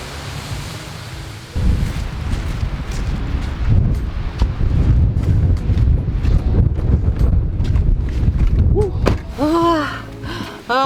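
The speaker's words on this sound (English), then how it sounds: "Oh my goodness, that wind is cold." Cold wind gusts across the frozen waterfalls of Tongariro National Park, New Zealand, as a loud, steady roar of rumbling microphone buffeting. Brief chirpy sounds appear near the end.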